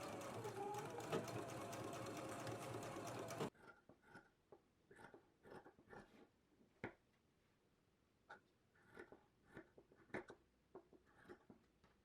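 A sewing machine runs steadily for about three seconds while understitching a dress facing to its seam allowance, then stops; afterward faint handling clicks and small fabric movements follow.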